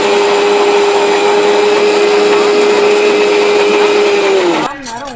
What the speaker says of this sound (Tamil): இதை பூரா என்னென்னா மிக்சி சாரில் போட்டு நல்லா மையாக அரைக்கணுங்க.